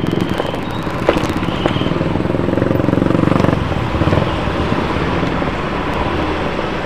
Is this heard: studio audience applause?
no